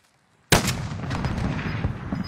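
Gunfire in Call of Duty: Warzone 2.0 bursts in loud and sudden after a half-second of silence, a sharp shot followed by rolling, echoing reports that keep rumbling to the end.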